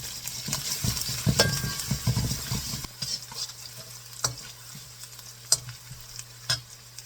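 Garlic and whole red chilies sizzle in about 30 ml of hot oil in a pan, a steady close crackle with scraping stirs and occasional sharper spits.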